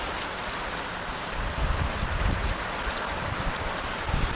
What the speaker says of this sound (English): but there's quite a bit of rain